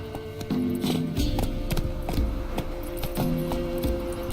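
Horse in The Witcher 3 trotting, a rhythmic clip-clop of hooves with faint jingling tack, close and even-paced over a low background hum.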